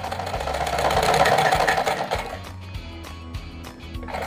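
A sewing machine runs a seam along the edge of velvet lehenga fabric, a loud steady whir of rapid stitching that stops about halfway, followed by softer clicks and handling of the cloth.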